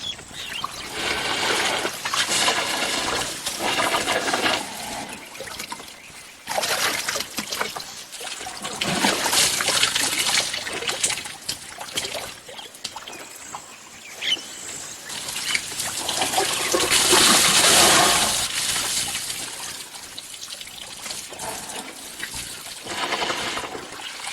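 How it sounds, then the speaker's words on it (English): Wounded bull elephant in the jungle, with a bullet wound above the eye, blowing water over it with its trunk: repeated splashing, spraying and trickling bursts, fairly loud and close, with no talk. "He blows water on it and feels it with his trunk."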